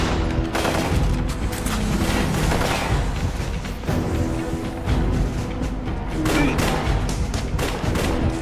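Bursts of AK-47 gunfire in Eat Lead: The Return of Matt Hazard, loud rapid volleys broken by short gaps, with a few heavier thumps mixed in.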